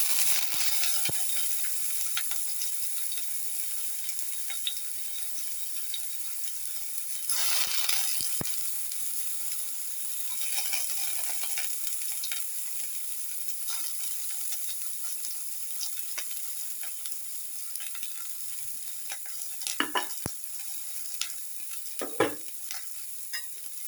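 Shallot sautéing in hot oil in a pan for shrimp pasta, a soft continuous sizzle with scattered scrapes and taps of stirring, brief louder bursts around the middle and end, no voices.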